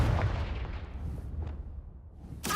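A fire spell cast in the wizarding video game Hogwarts Legacy: a loud, rumbling burst fading over a couple of seconds, with a sharper crackling hit near the end.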